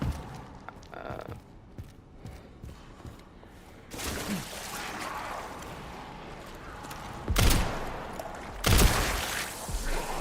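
Gunshots ring out during combat in the video game Resident Evil Requiem, several sharp bursts with two strong blasts near the end over game sounds, while a player talks now and then.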